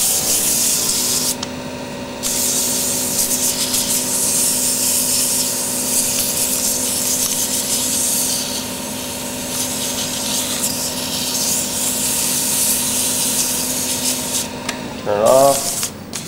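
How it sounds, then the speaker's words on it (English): Sandpaper, around 220 grit, rubs side to side on a wooden pen blank as it turns. The rasping hiss is steady and close, over a constant motor hum, with a brief louder scrape near the end. "And then sand it side to side while you're turning it by hand."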